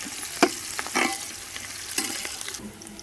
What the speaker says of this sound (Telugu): ఉల్లిగడ్డ ఫ్రై అవుతుంది